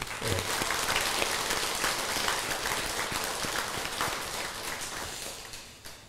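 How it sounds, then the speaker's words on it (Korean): An audience at a Buddhist temple ceremony applauds the volunteers and officials, many hands clapping in a steady, full round that holds level and tapers slightly at the close. "모든 분들 봉사자들께 고맙다는 박수 한번 부탁합니다."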